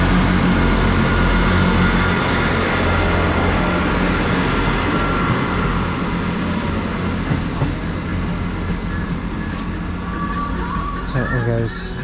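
A train departing from a station platform rumbles steadily nearby with a low engine drone and rail noise, fading slightly as it pulls away; faint squeals near the end.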